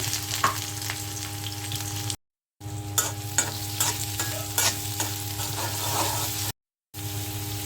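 Chopped onions and shrimp frying in a pan, giving a steady close sizzle with scraping stirs and clicks of a utensil over a low hum, cut by two brief gaps of silence.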